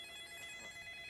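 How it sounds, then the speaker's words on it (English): A phone ringing, a faint, distant electronic ring with steady high tones, heard alone. "My phone's ringing."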